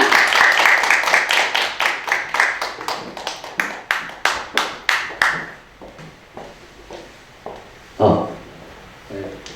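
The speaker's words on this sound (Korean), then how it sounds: "큰 박수 부탁드리겠습니다" A round of hand clapping from a seminar audience at a girls' high school, loud at first and gradually thinning out into scattered claps before fading.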